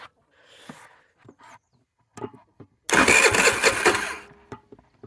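A dirt scooter's small engine is kicked over and catches, bursting into a loud, rough, close running for over a second before fading out, preceded by faint clicks and handling noises.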